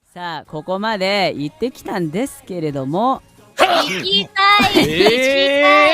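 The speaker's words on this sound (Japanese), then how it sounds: "今のくしゃみ誰？" A single abrupt sneeze bursts out during a live broadcast, landing amid nearly continuous animated talking and sharply louder than the voices around it.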